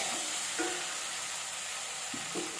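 Sundakai, or turkey berries, sauté in a pan with an even, close sizzle, while a few scraping stirs of a spatula come and go against the steady hiss.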